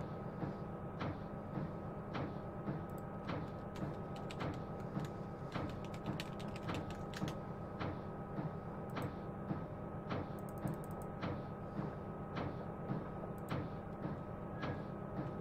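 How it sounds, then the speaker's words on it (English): A windscreen wiper on a BR Class 60 locomotive in Train Simulator 2021 ticks in a steady, repetitive rhythm about once per second, faint, over a constant low cab rumble. "That wiper sound, I'm sorry, but it's driving me up the wall."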